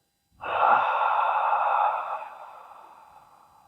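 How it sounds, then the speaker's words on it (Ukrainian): One slow, calm breath during a guided breathing practice sounds as a close, airy rush that starts abruptly, holds steady for over a second, then gradually fades away. "Спокійний вдих через ніс і смачний видих через рот."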